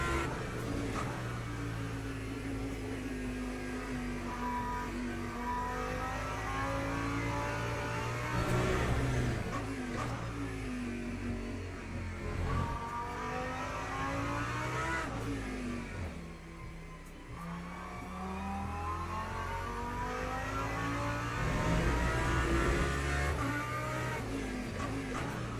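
A race car engine in the Le Mans Ultimate video game at the Interlagos circuit, revving up and down through repeated gear changes as the car brakes and accelerates around corners, steady and prominent throughout with no voices.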